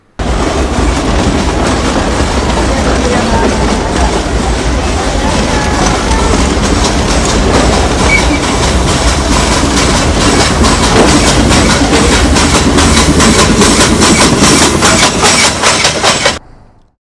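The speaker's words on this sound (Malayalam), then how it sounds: "നമ്മളങ്ങനെ ട്രെയിൻ പോണ ആ ഒരു വിഷ്വലൊക്കെ എടുത്തുകൊണ്ടിരിക്കുകയായിരുന്നു" A train rolls steadily past right beside the track on a hidden forest road route, loud and continuous with rhythmic clatter of wheels over rail joints for the full length, no voices.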